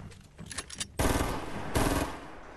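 Rapid automatic gunfire from a Fortnite duos match, a steady stream of loud, dense shots with a sharp burst at the start and another surge near the end, over faint game ambience.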